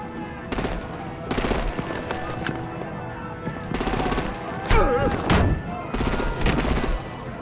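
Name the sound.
gunfire and artillery in Batman video game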